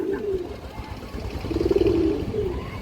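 Rare Nazra Kaldam pigeons give two rolling coos, one brief and one longer and louder, heard close at hand against faint background noise with no speech.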